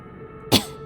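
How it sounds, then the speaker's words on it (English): A single short choking gasp, sharp and close, rising out of a quiet low background hum. "A choking gasp for breath."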